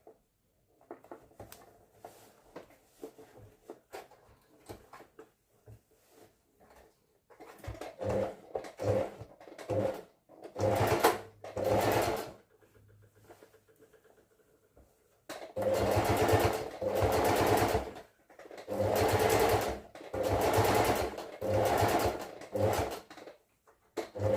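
A sewing machine stitches fabric edged with elastic in several separate bursts, the later ones long and loud, with quiet pauses and small handling noises between runs.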